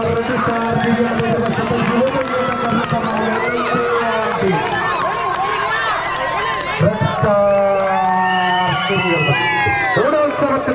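A crowd at an Onam tug-of-war contest claps and cheers with a constant roar of voices, rising into louder whoops and shouts near the end. People talk throughout.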